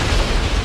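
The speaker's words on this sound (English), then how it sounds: "there was a large explosion" Large explosion at an oil refinery, a dense loud low rumbling blast that fills the whole brief moment with heavy booming energy.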